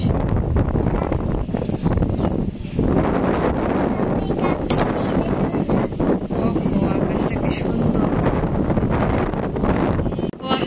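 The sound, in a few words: strong wind blowing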